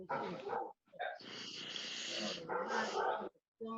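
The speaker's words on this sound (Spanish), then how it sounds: "se siente un perro por ahí" A dog barks in the background of a Zoom video meeting, mostly under steady talk, with a few short bursts between phrases.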